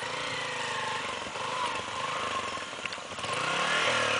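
A motorcycle engine runs steadily at close range with a rough, continuous drone that swells slightly toward the end, outdoors near water.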